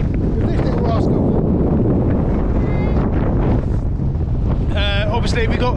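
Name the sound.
strong wind at a beach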